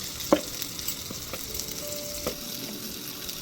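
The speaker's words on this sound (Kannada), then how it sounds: "ಇವಾಗ ಇನ್ನೊಂದು ಸೈಡ್ ಕೂಡ ಫ್ರೈ ಆಗಿದೆ, ಟರ್ನ್ ಮಾಡ್ಕೊಳ್ತಾ ಇದ್ದೀನಿ." Mangalore bangude (mackerel) in red masala frying in plenty of oil in a pan, a soft steady sizzle with a sharp clink near the start and a few light scrapes as the pieces are turned.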